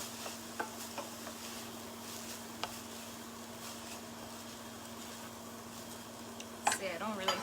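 Rice is stirred into kimchi fried rice in a pan, a soft continuous sizzle with occasional scrapes and light knocks of the utensil, quiet and close, with a brief louder clatter near the end.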